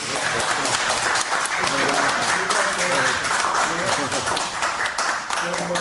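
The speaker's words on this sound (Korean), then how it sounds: "그래서 그런 의미에서 또 우레 같은 박수 한번" Thunderous applause fills a lecture hall as an audience claps for an architecture talk, dense and steady throughout with a murmur of voices mixed in.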